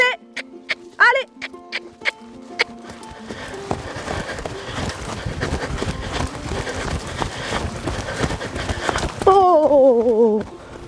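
A horse trotting on long reins along a flat path, a run of quick hoof clops building into a steady rhythm, with a voice calling out over it and a short whinny-like cry near the end.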